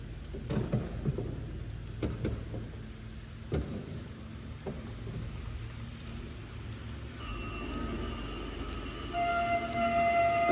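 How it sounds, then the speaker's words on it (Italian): An express train on a large model railway layout at the Pietrarsa museum rolls into a station with quiet clicking and rumbling, then high sustained squeals build toward the end. "Treno espresso proveniente da Venezia è in arrivo al binario 3"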